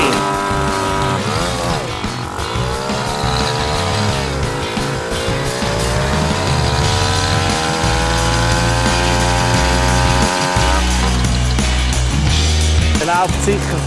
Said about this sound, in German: Burnout im Schnee.